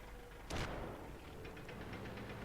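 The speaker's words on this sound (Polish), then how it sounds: "Zaraz dostanie strzała od KW1." A single booming tank cannon shot in the video game World of Tanks cracks out early on, followed by a faint rumble and light clicking against a quiet background.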